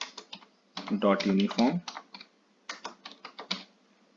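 Computer keyboard typing of Python code comes in quick bursts of soft clicks, mixed in with someone talking over most of the clip.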